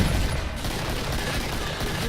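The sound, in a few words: gunfire in the video game Killing Floor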